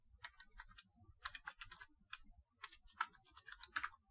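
Fingers type on a computer keyboard in quick irregular clusters of soft clicks, close but quiet, with brief pauses between bursts and no voices.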